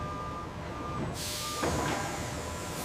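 A truck reversing at a cigarette factory loading bay gives off steady repeating backup beeps, with a sharp hiss of air brakes partway through over constant industrial hum.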